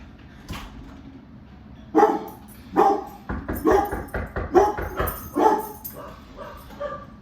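Several excited dogs bark at the door, a loud burst of repeated barks and yips coming in quick overlapping clusters after a short quiet start, close by.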